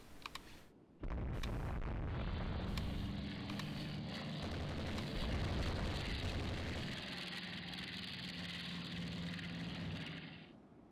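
Airstrike explosions in the naval game Rule the Waves 2 erupt as a loud, sustained roar after an abrupt onset, booming blasts blending with a droning aircraft-like tone that persists for about ten seconds.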